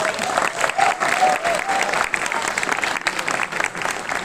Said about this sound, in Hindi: अरमान के लिए एक बार जोरदार तालियां